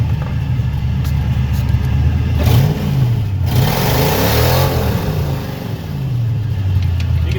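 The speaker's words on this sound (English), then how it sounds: "You can spin the tires." A junkyard Fox Body Mustang with a loose belt and no power steering revs hard and spins its tires, a loud steady engine roar with a rising, wavering pitch and a brief burst of broadband tire squeal in the middle.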